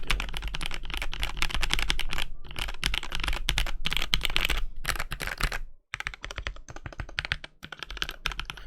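Rapid, steady typing on a Mino 40% mechanical keyboard fitted with Creampacas switches, the dense clacks loud and close, with a brief pause partway through before the keystrokes resume alone.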